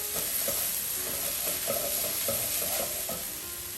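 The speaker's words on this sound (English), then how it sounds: "you're gonna stir it around." Vegetables and garlic cooking in a pot for fish stew, a steady sizzle under a series of rhythmic stirring scrapes and knocks of a spoon against the pot.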